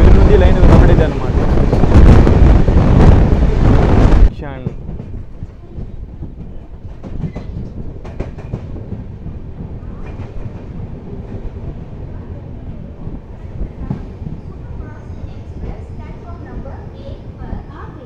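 A train runs on the Shimoga–Talaguppa line of the South Western Railway as it nears Birur. A loud rushing roar gives way after about four seconds to a quieter interior rumble with faint rhythmic wheel clatter.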